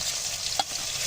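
Crushed garlic hitting hot oil with onion while making a Bengali chicken curry, a continuous close sizzle with one brief clink of a utensil partway through; nobody speaks.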